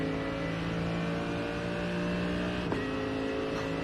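Race car engine in the iRacing video game at the 24 Hours of Spa, a steady, loud sustained engine drone with layered harmonic tones and a brief sharp transient near the end, heard alone without talk.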